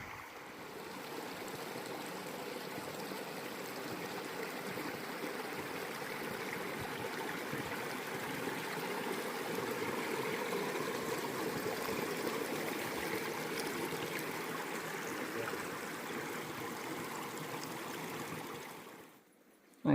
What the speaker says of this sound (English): It's a beautiful stream coming to view.